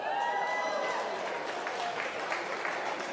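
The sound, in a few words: audience clapping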